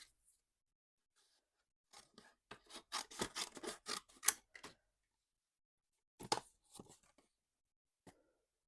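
Scissors roughly cut die-cut paper shapes by hand in a craft room: quiet, close snips and rustles, several quick cuts clustered together, then a few isolated snips after a pause.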